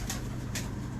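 A pigeon, one prized and bought for a high price, coos close by in two soft, low, rolling pulses within a second, over a steady low background hum.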